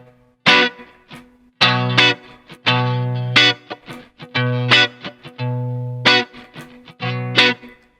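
Electric guitar strummed in a muted kick-snare rhythm for a blues song, alternating low bass-string hits with choppy chord stabs on the top strings in a loose, steady groove, close and alone.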